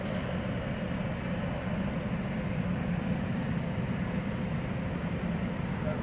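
A steady, heavy rumble of a two-mile-long train rolling past, constant and fairly loud throughout with no voices.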